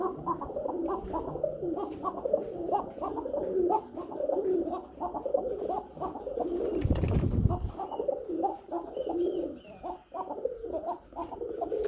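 Danish pigeons cooing in a repeated, steady rhythm, close and fairly loud, with a breeding pair for sale among the birds; a low rumble sounds briefly near the middle.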